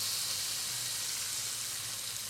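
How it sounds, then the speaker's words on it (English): Steak frying in a hot pan with a little olive oil gives a steady, dense hiss of sizzling, close and unbroken for a couple of seconds. "So hot pan, little touch of olive oil."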